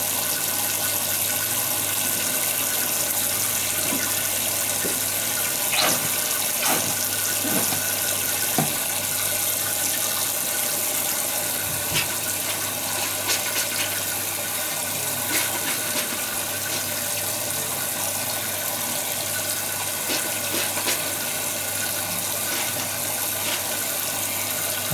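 Running water pours steadily from a salon tap to rinse shampoo out of a repaired hair system, a constant close hiss with a few faint knocks and splashes.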